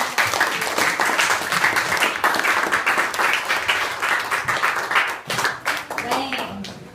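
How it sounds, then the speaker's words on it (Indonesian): Classroom applause for a student group after a math presentation on cone volume: many hands clapping loudly and densely for several seconds, mixed with children's voices, thinning into scattered claps near the end. "Oke, tepuk tangan dulu untuk kelompok."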